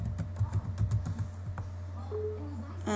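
Quick keystrokes on a computer keyboard, a short burst of close taps over a steady low electrical hum, followed by a few fainter clicks.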